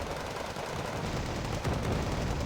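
Dense, continuous machine gun fire from Wargame Red Dragon, a real-time strategy game, rattling back and forth as a busy, loud battle texture without voices.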